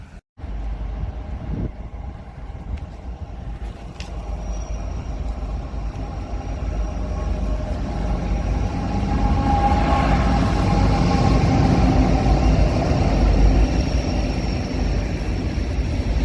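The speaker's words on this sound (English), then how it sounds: "I'm guessing we're waiting on a train to pass by." A freight train rumbles past at a rail crossing in Kansas, a steady low roar that swells and grows louder over sixteen seconds, with rain and no talking.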